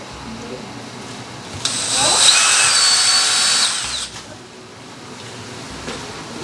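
A power drill whirs loudly for about two seconds while re-drilling a screw hole for a window blind bracket, its motor pitch rising as it bites in, then stops, leaving quiet background noise.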